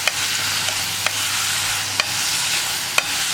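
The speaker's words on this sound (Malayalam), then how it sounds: "മഞ്ഞൾപ്പൊടിയും കൂടി ചേർത്ത് നന്നായിട്ട് ഇളക്കിയതിന് ശേഷം നമ്മളൊന്ന് അടച്ചു വെച്ച് കുക്ക് ചെയ്യണം" Potato pieces stirred with turmeric powder in a hot pan give off a steady sizzle, while a spoon scrapes and taps the pan about once a second.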